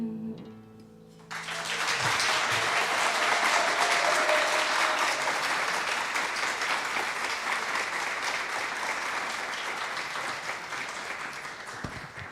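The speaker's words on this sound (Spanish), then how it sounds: "Un aplauso más fuerte para nuestra Lamien." Loud, sustained applause from a large crowd that starts suddenly and continues steadily for over ten seconds, slowly tapering near the end.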